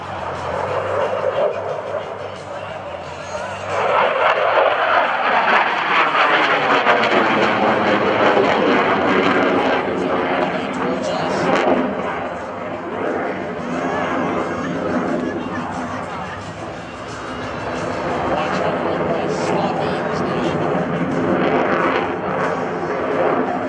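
F/A-18F Super Hornet jet setting up for a vertical pirouette at a McGuire-Dix-Lakehurst airshow, a loud sustained engine roar swelling and shifting as it passes, with crowd chatter and announcer talk underneath.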